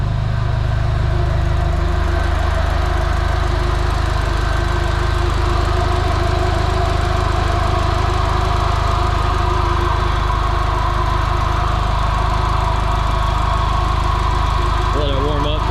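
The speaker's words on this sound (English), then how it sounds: "There it is, it cranked right up." A Nissan 240SX with a CA18DET engine idling just after starting up, a loud, steady, close rumble with a faint knocking edge, and a voice talking over it.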